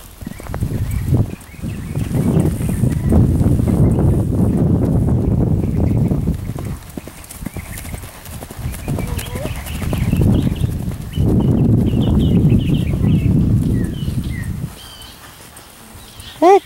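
A horse cantering in a riding setting, its rhythmic hoofbeats repeating in steady bursts under a rider's voice calling out commands, with wind noise brushing the microphone.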